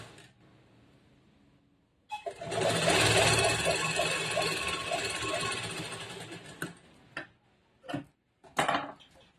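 A sewing machine stitching a princess-cut boat-neck blouse whirs steadily for several seconds, with rhythmic ticking of the needle, then stops, followed by a few short handling clatters.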